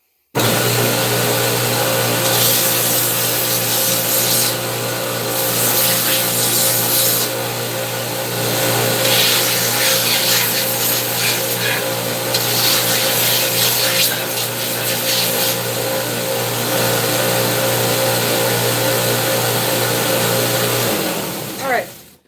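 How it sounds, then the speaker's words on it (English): An angle grinder sands a blacksmith's knife continuously for about twenty seconds, a loud, steady, rasping whine on metal with a constant motor hum underneath, then cuts off abruptly. "now you can kind of see me as I'm sanding this with the angle grinder"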